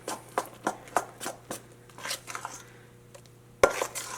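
Urad dal bonda batter is beaten by hand in a bowl, giving a series of soft, close slapping thuds at an uneven rhythm, with a sharper, louder slap near the end in a quiet room.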